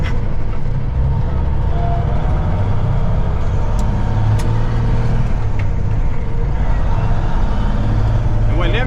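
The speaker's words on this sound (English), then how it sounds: "This is a 90 379 with a 475 twin turbo Cummins." Running 1990 Peterbilt 379 semi truck with a 475 twin-turbo Cummins diesel, a loud steady low rumble with constant engine roar close by, alone without talk.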